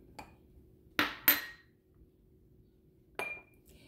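Cardamom and nutmeg for chai powder dropped into a container, a few separate sharp clinks and rattles in quiet, two close together near the middle and one more later.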